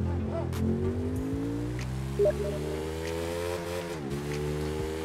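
Car engine in the open-world racing game The Crew 2, a steady droning hum with rising and falling pitch sweeps as the vehicle speeds up and shifts, with a brief sharp sound midway and a dip near the end.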